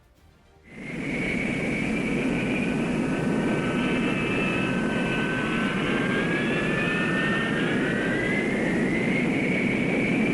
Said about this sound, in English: the F-4B of Marine Fighter Attack Squadron 115 taxis out for takeoff